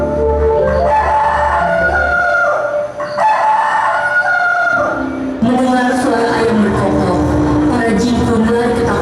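Rooster crows and clucking fowl play loudly through a sound system as an effect in a school stage drama of the Tangkuban Parahu legend, the crowing repeated over a humming background.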